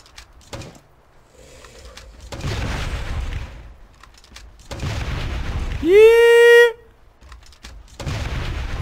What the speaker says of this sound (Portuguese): E eu também tô explodindo